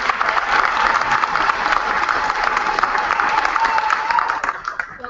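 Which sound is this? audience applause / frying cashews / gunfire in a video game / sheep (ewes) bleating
audience applause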